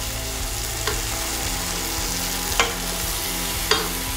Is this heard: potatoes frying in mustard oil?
yes